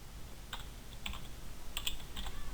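Keys tap on a computer keyboard in short, irregular bursts of a few clicks each, close by and fairly quiet over a faint background hum, with no talking.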